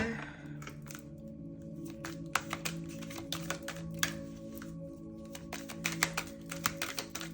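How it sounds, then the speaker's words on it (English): Tarot cards riffle and tap in quick, irregular clicks over a low steady hum, faint and close, with a short pause midway. "these cards do not want to shuffle the easiest sometimes"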